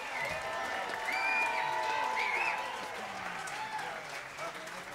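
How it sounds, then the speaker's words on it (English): An audience at a 2023 Northwest Arkansas Youth All-Stars jazz concert applauds, a sustained wash of many hands clapping with scattered cheers and whoops, swelling early then easing slightly but continuing to the end. "Big round of applause."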